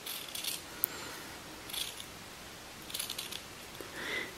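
Scissors snip through buckskin leather along a fold line, a few quiet, separate cutting bursts spaced over a few seconds, close and faint with no talking.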